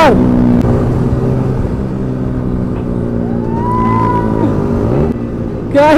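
A Yamaha R15 V3 motorcycle's exhaust drones loudly and steadily while riding during a race, its pitch climbing sharply at the start and end as the throttle opens.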